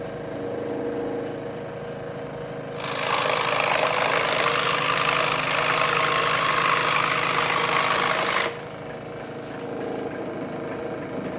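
A scroll saw cuts pool noodle foam in one steady buzzing run of about six seconds. Its quieter idle can be heard before and after the cut.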